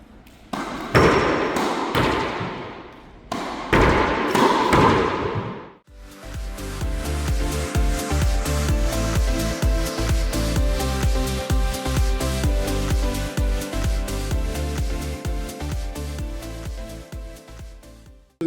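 Tennis ball volleys against a racquetball court wall make rapid, regular thuds and bounces in an enclosed echoing room, loud and close, after a few separate hits at the start.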